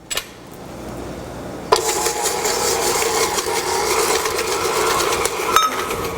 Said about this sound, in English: I'm gonna give this a mix until it's light and fluffy